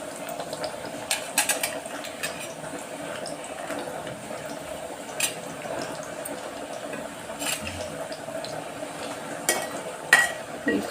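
Cloves and fresh grated coconut fry in a pan with a steady low sizzle, broken by occasional stirring scrapes and taps, fairly quiet and close, with no one talking.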